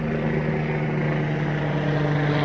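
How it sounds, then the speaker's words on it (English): A helicopter drones steadily overhead in an outdoor garden setting, its rotor and engine giving a constant loud, throbbing hum with no pause. "Thanks a lot, helicopter."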